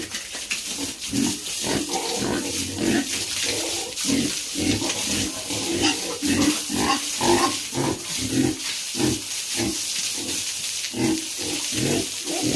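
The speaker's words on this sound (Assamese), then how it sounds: "এইফালে আছে আমাৰ বহুত ডাঙৰ গাহৰি এইকেইটা" Pigs grunting repeatedly in short, rhythmic bursts, close by and fairly loud, over a steady background hiss.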